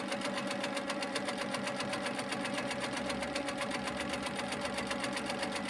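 A Handi Quilter longarm quilting machine stitching down fluffy yarn with turquoise thread, a rapid, even mechanical chatter of needle strokes that runs steadily and close throughout.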